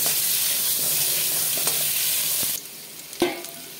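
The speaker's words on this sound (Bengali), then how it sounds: "এই তেলে আমি আলুগুলোকে ভেজে নেব।" Potatoes fry in hot oil in a pan that earlier held prawns, a loud steady hiss that drops away sharply partway through, followed by a clatter of stirring in the quieter remainder.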